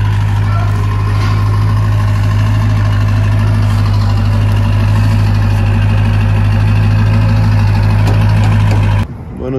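A dually pickup truck's engine running as it is unloaded from a trailer: a loud, close, steady idle with a deep constant rumble that drops away abruptly near the end.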